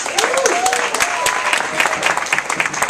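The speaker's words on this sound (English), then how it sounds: "Let's give him a round of applause" At an Urban Ed annual event, an audience claps for an IT instructor with loud, close, dense applause, with whoops and voices rising over the clapping.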